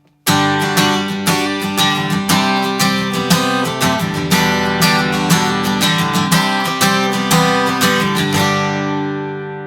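Acoustic guitar picking out the intro melody line of the worship song Christmas Day, a steady run of plucked notes with ringing harmonics, close and clear, played alone from start to finish with no talking.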